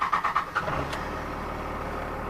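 A truck engine runs steadily on its first drive after a swap from automatic to manual transmission, a low continuous rumble after a few brief knocks at the start, close and alone without talk.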